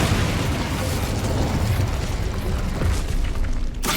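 A fiery Incendio spell blast from the Hogwarts Legacy game roars as a dense, continuous booming burst of flame, loud and close, with a rumbling low end sustained for a few seconds before cutting off sharply.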